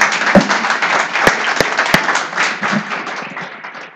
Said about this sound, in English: I would like to invite everybody to just give them a hand of applause.